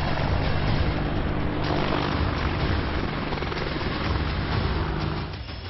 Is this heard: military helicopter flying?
yes